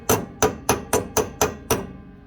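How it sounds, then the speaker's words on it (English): Six quick, evenly spaced hammer taps seat a car wheel dust cap, each a sharp close metallic knock with a brief ring, the last one fading out. "Just give it a few little whacks."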